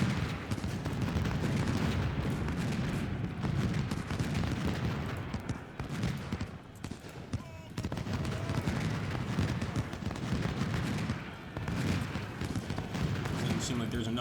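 Musket volleys in a Civil War strategy game battle, a dense continuous rumble of massed gunfire and distant booms that dips briefly midway and swells again, with someone talking over the din.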